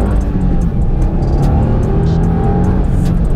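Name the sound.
2022 Subaru WRX engine while cornering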